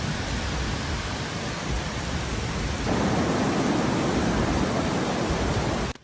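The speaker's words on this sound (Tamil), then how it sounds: "மெயின் ஃபால்ஸ்ல ஏற்பட்டிருக்கிற வெள்ளப்பெருக்கால பாலத்துல உள்ள தடுப்பு கம்பிகள் உடைஞ்சு வெள்ளம் கரை புரண்டு ஓடிட்டு இருக்கு." The flooded Main Falls at Courtallam roars as a dense, steady rush of water, loud and continuous and close by, swelling slightly partway through before cutting off.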